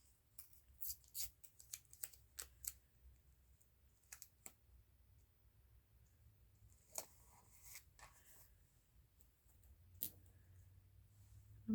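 Scissors snip washi tape for a calendar collage, faint and close, with a quick run of small cuts early, then scattered single snips and light handling noise, no talk.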